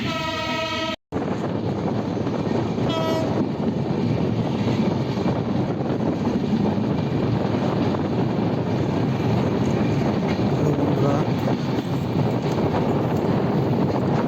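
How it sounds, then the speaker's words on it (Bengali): A fast-moving passenger train on the route toward Bhanga, past jute fields, heard from inside the carriage as a steady, loud rumble with broadband rushing and wind noise that continues unbroken apart from one brief dropout near the start. "ট্রেন খুব দ্রুত চলছে"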